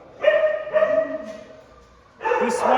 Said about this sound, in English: Bruno is a male black, white Ost cattle dog and mix